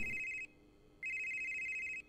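A video game telephone rings twice in a clear electronic trill, each ring lasting about half a second with a short gap between, close and alone.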